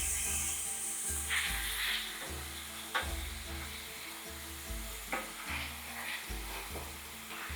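Meat fries in oil in a pan with a soft steady sizzle, broken by repeated scraping strokes of stirring at a moderate, quiet level.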